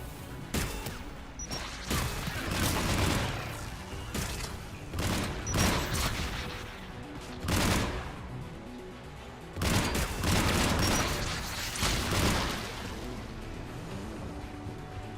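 Turret gun in the video game Mass Effect 3 firing in loud, close bursts, several sustained volleys of gunfire separated by short lulls across the whole stretch.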